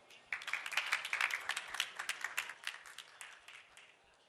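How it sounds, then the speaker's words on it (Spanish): A talk audience claps after a speaker is introduced at an event on economic independence for women, starting abruptly and fading gradually over a few seconds, moderately close with no speech over it. "un fuerte aplauso para Eva."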